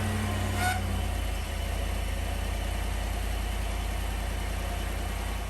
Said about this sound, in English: Now we'll go ahead and start the vehicle.